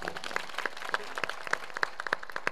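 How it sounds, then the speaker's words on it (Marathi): An audience at a devotional kirtan gathering claps in scattered, uneven bursts, the applause moderately loud, close and brief, with no clear voices. "जरा टाळ्या वाजवा जरा"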